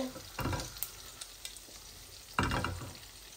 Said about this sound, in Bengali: জিরা তেজপাতা লাল হয়ে গেছে